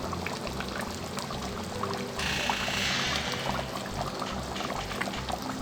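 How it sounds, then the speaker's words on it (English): Ground crayfish and country onions tipped into a pot while cooking Cameroonian ekwang, a brief pouring rustle in the middle over steady low kitchen background noise. "I'm just going to put in my crayfish, and this is my ground crayfish and country onions."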